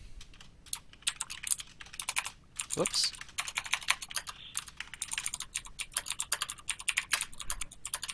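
Rapid clattering keystrokes on a computer keyboard, close and uneven in bursts, with a short spoken exclamation partway through.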